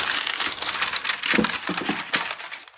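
Parchment baking paper crinkles and crumples in close, loud, irregular bursts as it is handled for lining a rectangular cake tin.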